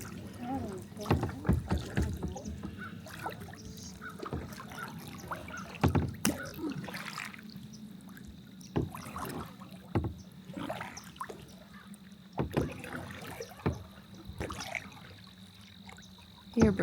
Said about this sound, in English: we're gonna paddle the other direction.